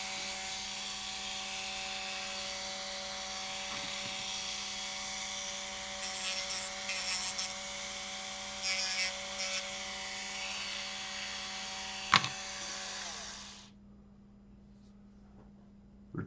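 A Dremel rotary tool deburrs sharp edges on parts for a Team Associated T7 R/C stadium truck build, giving a steady high-pitched whine for about fourteen seconds with a few brief grinding bursts before it stops and falls quiet.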